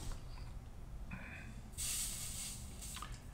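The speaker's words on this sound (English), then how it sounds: "you can hear the flux fizzing away" Soldering flux on the end of a metal nut fizzes and hisses under a hot soldering iron while a model LNER Pacific locomotive kit chassis is soldered. A steady close sizzle swells midway and then lingers, with no talking.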